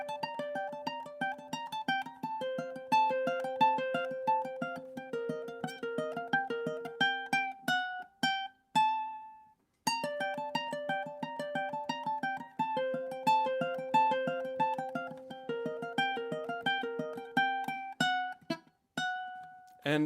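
Solo ukulele picking a tune high up the neck, a clear, fast run of bright plucked notes in a steady rhythm with a brief pause midway, close and alone.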